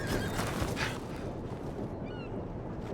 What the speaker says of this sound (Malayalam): കുതിരയുടെ സൗണ്ട് അല്ലേ കേട്ടതിപ്പോ?